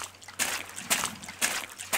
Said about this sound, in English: when we're stepping in the water, we want to hear that.